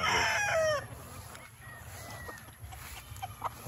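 A young gamecock stag crows once loudly and near at the start, followed by quieter clucks and faint fowl sounds in a farmyard setting.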